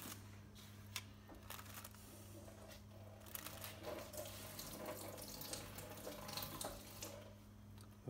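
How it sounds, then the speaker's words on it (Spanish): Hands are rinsed under a running kitchen tap while making homemade uramaki sushi, a steady close stream of water splashing into the sink with a constant hum in the background and no talk. "Nos enjuagamos las manos"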